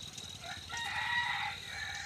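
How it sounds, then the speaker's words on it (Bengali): A rooster crows in a rural village in Faridpur, one drawn-out call at moderate distance over steady outdoor background noise, with no speech. "মুরগির ডাক শুনতে পাচ্ছি মোরগ মোরগ"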